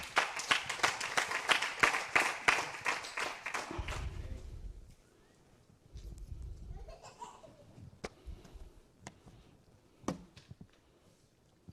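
A church congregation claps and laughs, a burst of rhythmic applause at the start that gives way to scattered laughter, murmurs and a few isolated claps, fairly faint overall.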